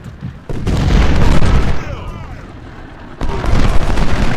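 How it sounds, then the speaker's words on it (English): Deep booming cannon fire in a Battle of Shiloh video game, two sustained roaring blasts with a quieter rumbling lull between them, loud and close. "Terrell's being driven back by cannon fire."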